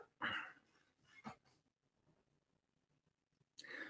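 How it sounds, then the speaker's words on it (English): A pet dog barks indoors, a few sharp yelps spaced apart, one near the start, another about a second later and a last one at the end, fairly faint and alone. "my dog has just decided for the first time ever to bark"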